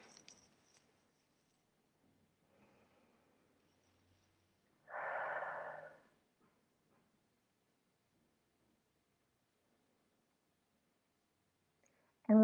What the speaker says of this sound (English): I invite you to close your eyes. Take a deep breath in.